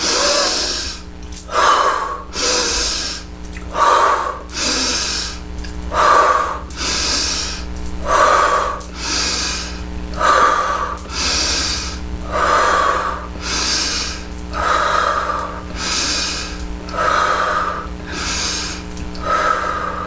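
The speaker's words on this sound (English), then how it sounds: "And breathe out your mouth when you are bringing your hands back in, and breathe in through your nose on the breath in." Bellows breathing exercise, sharp forceful breaths out through the mouth alternating with breaths in through the nose, repeated in a steady rhythm of about a dozen loud, close breaths and no talking.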